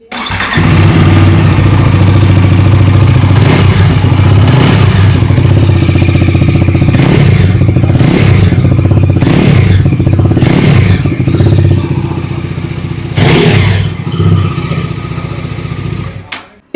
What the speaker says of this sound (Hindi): आइए अभी सुन लेते हैं इस बाइक की एग्जॉस्ट नोट।